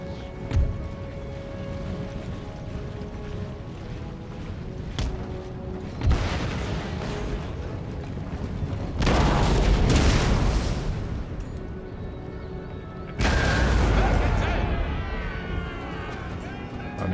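Cannon and artillery fire in the Empire: Total War battle game, with several heavy booming volleys at intervals over a continuous battlefield rumble.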